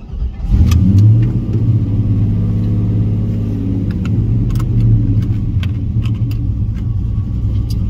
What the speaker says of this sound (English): All right, let's take her for a ride.